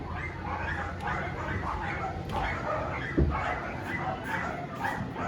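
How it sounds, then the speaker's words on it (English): A litter of three puppies yipping, whimpering and giving small barks in a continuous, overlapping chorus, close by, with faint voices in the background. "These wonderful 3 puppies that are left to pick from Stevie's litter."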